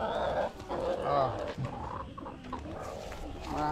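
Chickens clucking among farm-raised gamefowl, several birds giving short, close clucks and calls, with someone talking over and between them.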